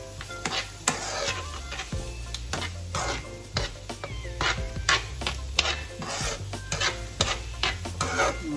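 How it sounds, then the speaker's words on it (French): Kidneys being stirred together with onions in a pan, repeated scraping and rubbing strokes over a soft sizzle, close and fairly loud, with no talking. "on va venir mélanger avec les oignons, comme ça"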